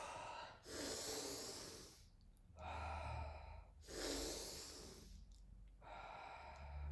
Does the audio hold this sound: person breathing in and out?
yes